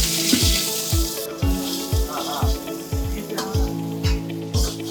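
Garlic, green chilli and onion frying in groundnut oil, a steady close sizzle broken by repeated low thumps and scrapes of stirring, with watery crackle throughout.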